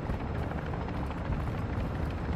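A helicopter in a video game gives off a steady, loud rumbling drone that holds evenly throughout, with no talk over it.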